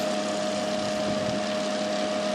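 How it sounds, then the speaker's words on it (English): A bean cooler's exhaust fan, fitted to a bucket under a perforated cake tin after coffee roasting, whirs continuously with a steady hum and a clear tonal whine, an even mechanical drone with no pauses. "It's basically a bucket with an exhaust fan and a cake tin with some holes in it."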